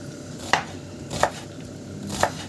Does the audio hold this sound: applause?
no